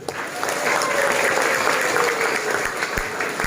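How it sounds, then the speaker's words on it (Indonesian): At a mosque youth group gathering, the audience breaks into brief, steady applause, a dense patter of hand claps filling the room with a few louder claps close by. "Luar biasa, tepuk tangan dulu."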